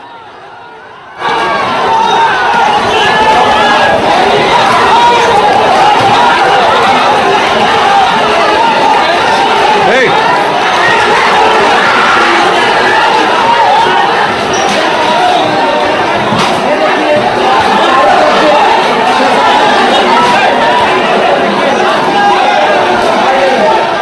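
A large crowd clashing with police while stones are thrown, a dense roar of many voices and scuffling that holds steady and loud for over twenty seconds, with distant knocks and thuds mixed in.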